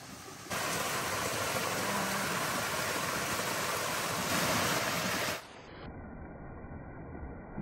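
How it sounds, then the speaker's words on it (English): A waterfall along a creek-like stretch of the Appalachian Trail, a steady broadband rush of falling water that stays loud and constant for about five seconds before cutting off abruptly to faint hiss. "Oh, and there's a waterfall."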